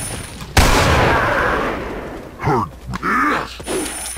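Gunfire in the Resident Evil 4 video game, heavily modded on insane difficulty, as a blacksmith enemy takes a headshot: a loud, dense burst of shots and booms, followed by a groaning enemy voice and further scattered impacts.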